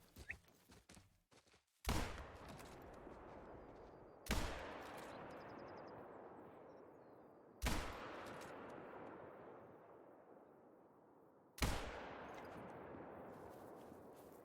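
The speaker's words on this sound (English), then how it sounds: "Really not worth all those bullets I just shot" Four hunting rifle shots from theHunter: Call of the Wild, each a sharp loud crack followed by a long rolling echo across open terrain, spaced a few seconds apart.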